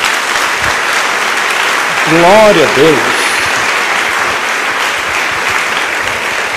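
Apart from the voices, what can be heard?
church congregation applauding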